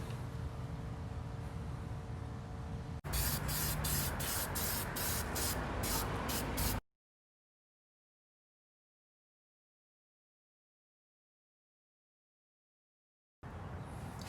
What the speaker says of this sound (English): I just have it in an AutoZone sprayer, so I'm gonna go spray this down with this